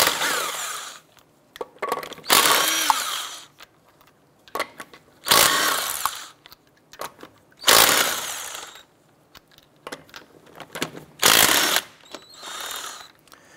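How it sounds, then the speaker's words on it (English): A 19 mm socket on a power tool spins lug nuts off a 2006-2013 Chevrolet Impala wheel, in about six loud mechanical whirring bursts separated by short quiet gaps. "Using a 19 millimeter socket, we're going to go ahead and remove our lug nuts."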